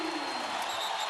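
Basketball arena crowd roaring and applauding after a three-point shot in a college game, Utah State hosting USC; a dense, sustained wash of cheering with no break.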